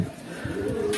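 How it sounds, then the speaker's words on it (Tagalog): A pigeon coos softly and close by, a brief low throaty call lasting about a second with light background noise. "So ito yung ating ibon na si Franco."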